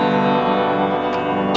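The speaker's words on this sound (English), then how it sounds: "There's the tremolo sound there." A sustained piano chord rings through an amplifier, its tone pulsing with a rapid, even tremolo wobble, loud and close.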